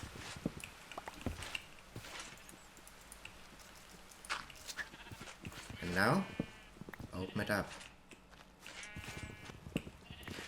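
Sheep in a modded Minecraft world bleat in a couple of short wavering calls around the middle, with a person talking over much of the scene.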